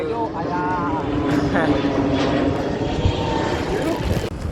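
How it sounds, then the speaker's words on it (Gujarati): An airplane passes overhead near Ahmedabad Civil Hospital, its engine drone steady and fairly loud with a tonal whine, holding across the few seconds before a brief dip at the end. "વિમાન ઉડે."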